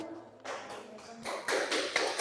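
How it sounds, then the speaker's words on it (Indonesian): A classroom of students applauds a presenting group, scattered claps building into a fuller, steadier round of applause that grows louder partway through, heard in a roomy space. "tepuk tangan untuk kelompok 1."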